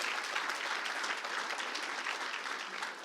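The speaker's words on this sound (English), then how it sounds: "you can clap for him" A Michigan town hall audience applauds, a dense, steady wash of many hands clapping at close range for the whole stretch, with no voices over it.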